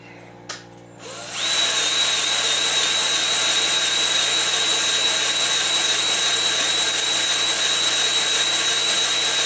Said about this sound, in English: It's using a bottle brush to lightly hone them so that you have a plateau finish for the rings to break in.